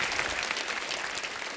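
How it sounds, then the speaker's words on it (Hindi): A studio audience on a Hindi comedy talk show claps in a dense, continuous burst, loud and even from start to finish. "जोरदार तालियां हो जाए मेरे भाई के"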